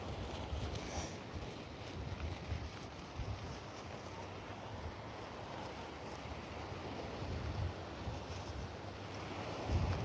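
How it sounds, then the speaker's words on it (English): Waves wash in and wind buffets the microphone at Port Melbourne Beach on a blustery day, a continuous rough surf roar with gusty noise throughout and no talk. "What beach is this? Port Melbourne Beach."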